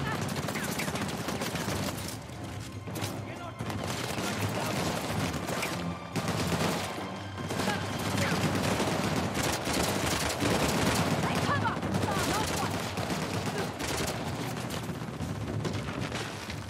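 Continuous dense gunfire and explosions from the Uncharted: The Lost Legacy video game fill a long battle scene, steady and loud throughout, with overlapping shots and booms.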